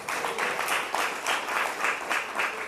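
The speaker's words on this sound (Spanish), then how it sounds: "Pueden dar un aplauso al Señor." Church congregation applauding during a sermon, a steady wash of clapping from many hands with a slightly pulsing rhythm, moderately loud, with no talk.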